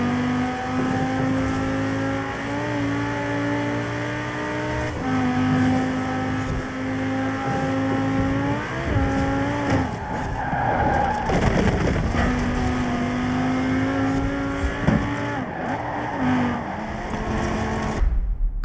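A Lamborghini Huracan races through a speed zone in Forza Horizon 4, its engine wailing steadily close up, rising and falling in pitch through repeated gear changes and revs for the whole stretch without any voices.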